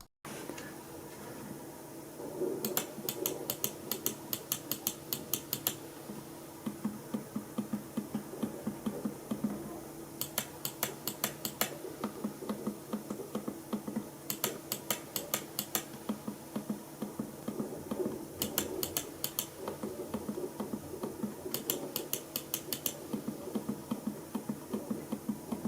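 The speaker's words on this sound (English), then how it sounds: "you can definitely hear a stark difference between the clicky blue switch and that yellow silent switch on the right hand side" Mouse button clicks on a SOLAKAKA SM802 hot-swap gaming mouse, alternating between clicky blue and silent yellow switches: bursts of rapid, crisp ticking separated by quieter stretches, all close up and alone over a low background hum.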